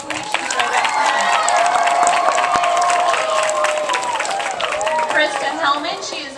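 Outdoor crowd at a Viva Florida 500 celebration applauds and cheers for several seconds, a loud continuous wash of clapping with shouts and whistles mixed in, voices of the crowd rising through it.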